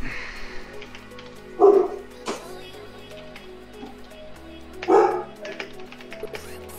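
A dog indoors gives two short, separate barks a few seconds apart over faint background music, heard while a gaming match is being commentated.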